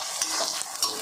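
Garlic and ginger sauté in a pan for a Tamil thuvayal chutney, giving a brief, steady sizzle with a couple of stirring scrapes, close and moderately loud, with no voices.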